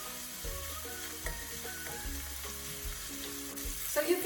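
Onions and garlic frying in a pan for pancit bihon, a quiet continuous sizzle with light stirring knocks and scrapes.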